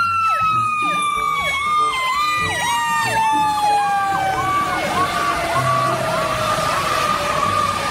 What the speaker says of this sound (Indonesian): di sini ada mobil pemadam kebakaran.